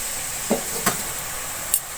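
Boiled mutton stirred into a pot for aloo gosht, giving a steady soft hiss broken by three brief scraping stirs, with no talk.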